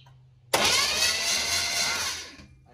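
A GM A-body engine, fitted with an HEI distributor and with its spark plugs removed, cranks over on the starter. It gives a loud, even whirring churn for about two seconds, then winds down without firing.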